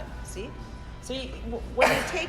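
A single sharp sneeze bursts out near the end amid indoor conversation, close and loud after quieter talk.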